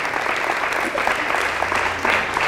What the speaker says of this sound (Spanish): Fuerte el aplauso al Señor por esta gran predicadora